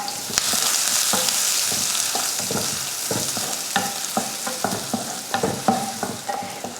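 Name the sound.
onion, mustard seeds and curry leaves frying in oil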